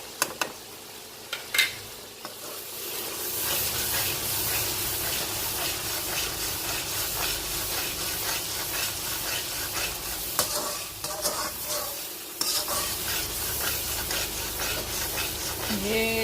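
Spices are stirred into softened tomatoes in a karahi for Balochi karahi, a steady loud sizzle and frying hiss with scraping stirs close by.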